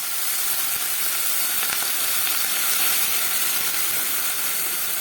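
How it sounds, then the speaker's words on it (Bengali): Spiced masala for a rohu fish curry with potatoes and beans sizzles in oil as a little water goes in, giving a loud, steady hiss that runs unbroken throughout with no talking. "এবার আমি এর মধ্যে দিয়ে দেবো খুব সামান্য একটু জল"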